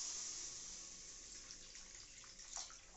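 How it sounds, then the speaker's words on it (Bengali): Water pours steadily into a pan of fish curry as it cooks, a soft continuous splash and trickle heard close and alone, with a slight surge near the end. "এরপরে আমরা জলটা দিয়ে দিচ্ছি"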